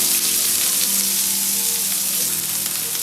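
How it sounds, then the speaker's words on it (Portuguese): Sliced onion sizzling in olive oil in a pan, a loud, steady frying hiss that fills the whole stretch with no talk over it. "Então a gente começa com um pouquinho de azeite na panela e vamos entrar com a nossa cebola."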